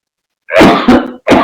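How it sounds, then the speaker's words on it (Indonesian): A preacher coughs loudly into a close microphone: one long harsh cough, then two shorter sharp ones, with silence before the first. "Mohon maaf, ada kala batuk ya"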